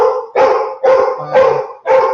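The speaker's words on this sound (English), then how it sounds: "you're not hearing nothing but barking right now" A dog barks loudly and close up in a rapid run of five sharp barks, spaced evenly with brief gaps, and no voices are heard.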